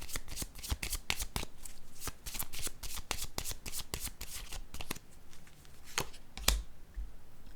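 A deck of cards being shuffled up close, with a rapid run of crisp riffling flutters and snaps repeating through the whole clip, alone with no talk.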